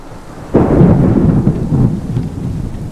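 A deep rumble of thunder rolls in suddenly and lingers over steady rainfall, loud and close, with no voices.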